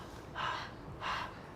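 A voice imitates panting, two breathy, airy exhalations about half a second apart, close and fairly soft, with no words spoken.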